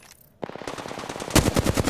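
Rapid automatic gunfire in the video game Apex Legends, a fast burst of close, loud shots that starts abruptly and grows heavier toward the end.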